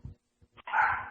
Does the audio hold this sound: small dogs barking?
yes